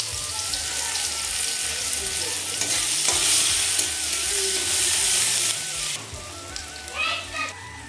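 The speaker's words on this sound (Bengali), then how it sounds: "এখন দিয়ে দিচ্ছি আগে থেকে কেটে রাখা পেঁয়াজ কুচি" Loud, steady sizzling of chopped onions frying in hot oil for a river mourala fish curry, with occasional stirring scrapes and a bright crackle that eases toward the end.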